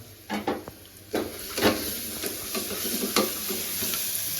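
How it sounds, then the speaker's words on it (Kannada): Spices sizzling in oil in a pan for dal khichdi, with salt, chilli, turmeric and coriander powder, under a steady frying hiss broken by several scrapes and clinks of a spoon stirring against the pan. "ಸೊ ಇದು ಫ್ರೈ ಆಗಲಿ ಚೆನ್ನಾಗಿ"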